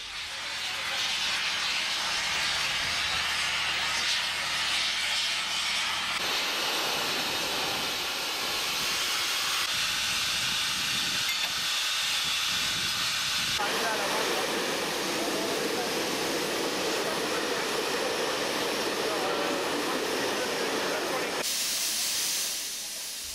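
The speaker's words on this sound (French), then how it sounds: "la 403, chargée d'assurer le premier des deux trains, quitte le dépôt pour aller se mettre en tête" Steam locomotive 403 leaves the depot in the Ardèche, hissing and venting steam loudly and steadily for over twenty seconds, with bursts changing in intensity as it moves off.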